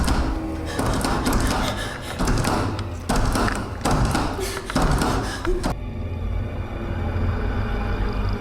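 Fists bang on a bolted door in a tense domestic scene, a rapid series of loud, close thuds and knocks that breaks off abruptly partway, leaving a steady background hum.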